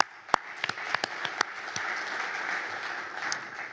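Conference attendees applaud the speakers, starting with a few loud separate claps that blend into a soft, steady patter of many hands in a large hall.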